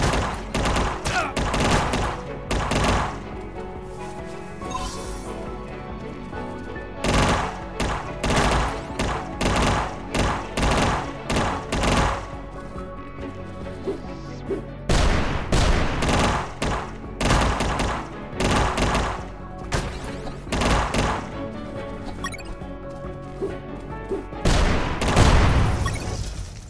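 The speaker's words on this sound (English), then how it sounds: "machine gun!" Rapid machine gun bursts and heavy gunfire thuds fill a hard-difficulty boss battle in the video game UnMetal, coming in loud repeated volleys with short gaps, mixed with game sound effects.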